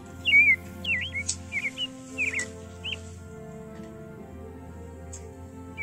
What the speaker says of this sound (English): Now the robin is a very famous bird in Britain.